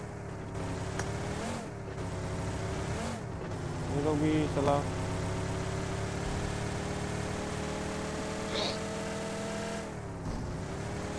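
Game car engine in a battle-royale showdown match, a steady droning motor with harmonic layers running continuously under talk between players, with brief pitch shifts.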